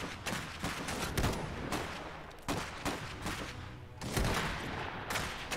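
A squad opens fire in the Iron Harvest video game, a rapid fusillade of overlapping gunshots and shotgun blasts in several dense bursts, loud and close.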